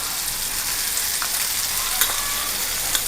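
Capsicum and ginger sautéing in a hot pan for a steady, dense sizzle close by, with a light scrape or two of stirring and no voices.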